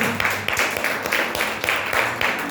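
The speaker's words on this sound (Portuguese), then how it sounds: "Melhor salva de palmas para Jesus" A church congregation applauding for Jesus during a sermon, with dense, continuous clapping pulsing in quick rhythmic surges at moderate loudness.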